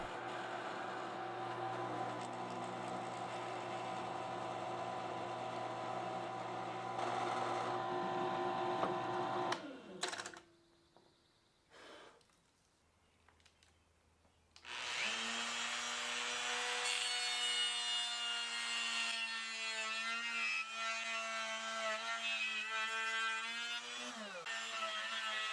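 A drill press and then a router hog out and finish a guitar neck pocket in a wooden body, loud whirring and cutting that stops briefly midway before a high, steady router whine resumes up close.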